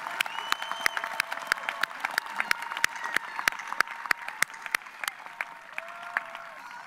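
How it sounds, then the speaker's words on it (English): An audience at a college commencement ceremony claps steadily, many hands together at moderate volume, with sharp individual claps standing out across the crowd; no one speaks. "please stand and please give them a round of applause"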